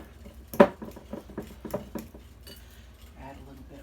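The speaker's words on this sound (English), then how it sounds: "I'll start smashing that in with my fork." A fork clinks and scrapes against a bowl, mashing hard-boiled egg yolks with mayonnaise for deviled eggs in a series of close, quick taps and squishes, one sharp knock early on.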